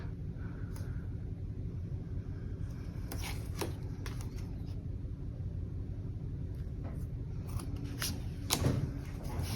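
Scissors snip through a planner sticker in a quiet room, giving several faint, short crisp cuts spaced unevenly over a low background hum.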